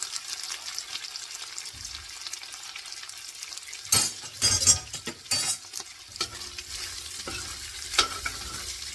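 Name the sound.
stirring beef in a soup pot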